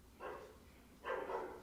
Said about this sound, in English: There's a dog going crazy out there.